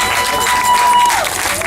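Audience at a Boston mayoral candidates forum applauding the candidates, a dense, loud burst of clapping with some cheering that carries through the whole short moment.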